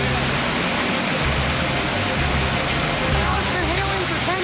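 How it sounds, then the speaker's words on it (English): Softball-size hail falls for a long stretch, a dense loud continuous roar of stones striking surfaces nearby. "Softball size hail."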